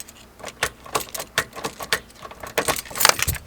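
A bunch of keys jangling in a car ignition on a turbo K20 Integra with a failing ignition switch, a run of loud, close metallic clinks and rattles in irregular bursts, no voices.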